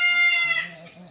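A male goat suffering from a severe cold and a heavy tick infestation bleats once, loud and close, in a long quavering cry that fades out at the end.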